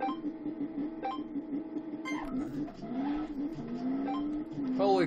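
An AWD twin-turbo build in Car Mechanic Simulator 2 accelerates down a drag strip. The engine whine climbs steadily, drops briefly at each gear shift and climbs again, loud and continuous throughout.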